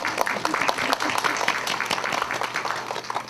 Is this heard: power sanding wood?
no